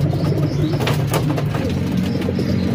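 Racing pigeons coo softly in a short, steady burst of low throaty calls, close by, with faint chirps mixed in and no talking.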